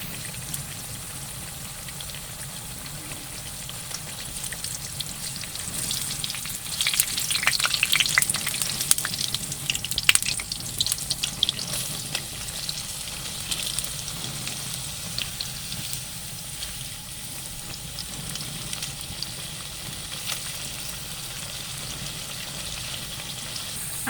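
Pakoras for kadhi deep-frying in a pan of hot oil, a steady close sizzle and bubbling that swells for a few seconds with stirring, then settles back to an even crackle, with no talking.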